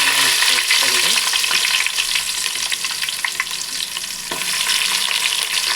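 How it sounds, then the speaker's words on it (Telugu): Two thinly sliced onions fry in a pan with a loud, continuous sizzle, broken by intermittent stirring scrapes. "ఆనియన్స్ ఇలా బాగా ఫ్రై అయిన తర్వాత"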